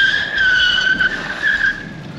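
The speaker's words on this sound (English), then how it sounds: "See how sharp the back brakes are." A Varla Eagle One Pro electric scooter braking hard with its rear brake, the tire skidding in a steady high squeal for about two seconds, close and loud, with no talk.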